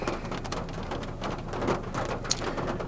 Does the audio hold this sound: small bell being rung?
no